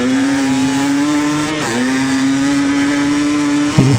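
A TE300 dirt bike accelerating hard in second gear, its two-stroke engine note climbing steadily with a brief dip at a shift or throttle lift, loud and close throughout.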